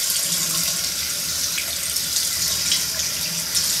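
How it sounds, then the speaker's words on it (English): Hot water runs steadily from a tap into a sink, a continuous broadband hiss and splash with no voices, used while trying to loosen Gorilla Glue stuck on a hand. "What if I try water? Like, hot water."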